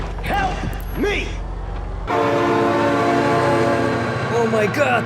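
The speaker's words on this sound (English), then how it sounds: "Oh my god, train!" A train passes with a long, loud horn blast and a rumbling roll of railcars, while voices cry out in alarm over it.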